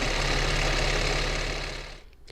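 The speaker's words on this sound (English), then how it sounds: "To sew on the elastic, you do want to use a zigzag stitch and stretch the elastic and binding as you sew." A sewing machine zigzag-stitching stretched elastic onto fabric binding, a close rapid mechanical whirring hum that runs steadily, then slows and stops.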